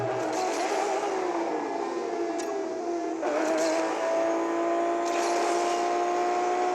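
Aston Martin DB9 Coupé engine in a multiplayer racing video game, a sustained loud whining rev that rises and falls with gear changes, steady and close throughout with no talk.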